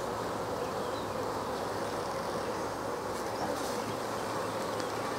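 Honey bees at a hive, a dense continuous buzzing hum with no pauses, close and fairly soft.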